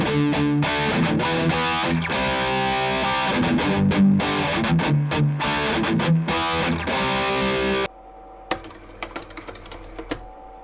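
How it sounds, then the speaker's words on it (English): Electric guitar played through a Valeton GP-5 multi-effects pedal on its yellow overdrive distortion setting, loud driven chords and notes for about eight seconds, then a sudden drop to quieter, sparse picked notes. "grab the distortion, yellow overdrive, and I'm gonna play"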